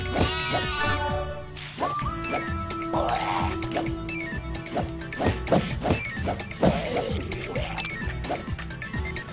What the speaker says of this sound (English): I'll kill the sheep.